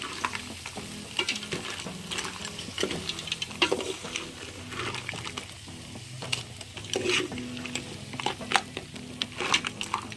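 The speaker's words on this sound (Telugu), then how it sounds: "వీటిని ఒక 2 సెకండ్ల పాటు కలుపుకోవాలి." Ingredients for a Telangana-style crab curry stirred in a hot pan, with a spoon scraping and clicking against the metal over a steady frying sizzle, close and without talk.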